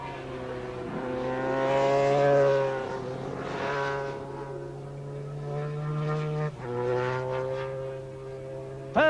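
Superstock racing motorcycles at Thruxton circuit in 1988 scream past with a high, harmonic engine wail that rises and falls through gear changes, fairly distant and sustained throughout.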